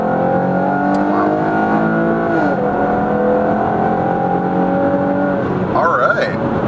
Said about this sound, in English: The raspy note coming out of the exhaust there, that's awesome.